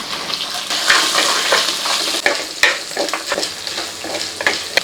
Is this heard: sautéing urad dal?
yes